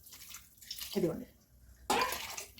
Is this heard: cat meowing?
no